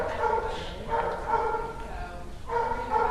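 Dogs at an animal shelter bark and yip in a steady, echoing chorus, a busy kennel din that continues through the clip with a voice talking over it.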